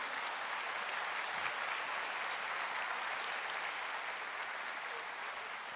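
A church congregation applauds steadily, a dense wash of many hands clapping at moderate distance with no pause, faint against the room's reverberation.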